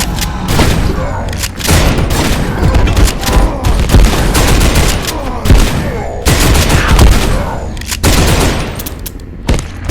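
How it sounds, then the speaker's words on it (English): Shotgun fire in the video game Abiotic Factor booms in heavy, rapid repeated blasts, dense and loud, mixed with other combat noise and a voice talking. "Let's see what the shotgun can do."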